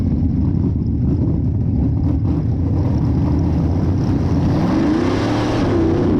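A stock race car running on a track under a yellow caution, a loud, steady engine drone heard from the cockpit with a pitch that rises and sweeps near the end.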